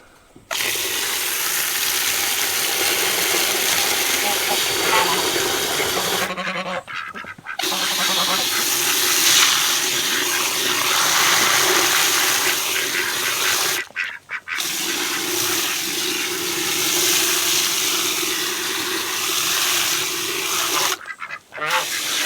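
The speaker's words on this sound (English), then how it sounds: "I'm gonna get the water hose here and finish watering these down" Loud, steady broadband hiss of water spraying from a hose, running continuously with a few brief pauses where the flow cuts off.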